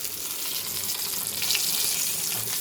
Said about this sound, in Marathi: मच्छी फ्राय झाली